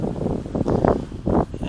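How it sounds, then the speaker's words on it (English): Gusts of wind buffet the microphone in low, rumbling surges, rising and falling in loud outdoor bursts, during a DJI Spark drone flight. "it's pretty windy out here"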